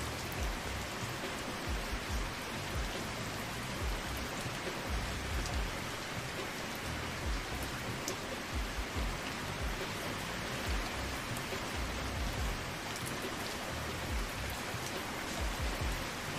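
Heavy rain in the video game Placid Plastic Duck Simulator pours steadily, a dense, loud, unbroken patter of drops and splashing across the whole stretch, with no voices.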